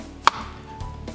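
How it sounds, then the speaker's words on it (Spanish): Knife cutting tomatoes into quarters on a board: one crisp chop stands out over a steady background hum, followed by a couple of softer cuts. "Vamos a ocupar nada más cortar los tomates en cuatro partes"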